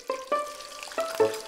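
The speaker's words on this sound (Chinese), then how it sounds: "热油煎香" Squid pieces and blanched watermelon rind frying in hot oil in a Cantonese home kitchen: a few sharp metallic clinks of a utensil against the pan ring out over a faint, low sizzle.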